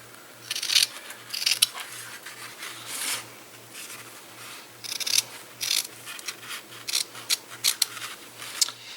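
Scissors snip repeatedly through a 6-inch by 10-yard roll of material, a series of crisp close cuts in irregular bursts over a faint steady hum, with no talking.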